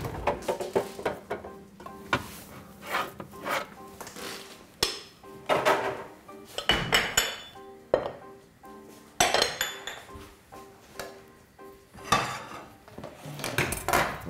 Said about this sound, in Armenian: լցոնում ենք կարտոֆիլները և շարում տապակի մեջ